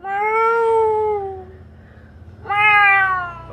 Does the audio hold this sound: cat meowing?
yes